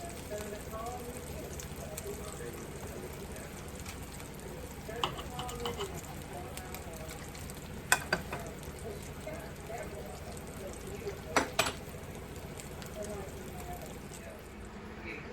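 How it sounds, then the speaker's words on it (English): Toast browns in grease in a cast iron skillet with a faint, steady sizzle under quiet background noise, broken by a few light clinks and scrapes of a utensil in the pan. "we're going to brown the toast in this skillet"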